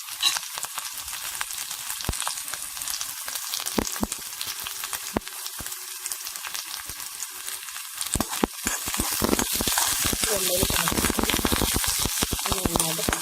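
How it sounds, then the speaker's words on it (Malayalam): Green chillies and curry leaves sautéing in a hot pan, cooked for a banana flower stir-fry: crackling, popping sizzle close by, with sharp spatters that grow louder and denser toward the end. "നന്നായിട്ട് പച്ചമുളക് വഴറ്റി കൊടുക്കാം."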